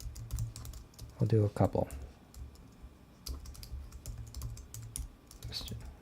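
Someone types on a computer keyboard in bursts of soft, rapid key clicks. Someone speaks briefly partway through, and quiet room noise sits underneath.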